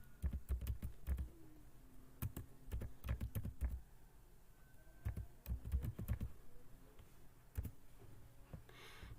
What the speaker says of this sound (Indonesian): Ketik localhost.